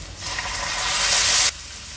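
Sabudana khichdi sizzles loudly in a hot pan, a bright steady hiss that swells and then cuts off abruptly, leaving a quieter background.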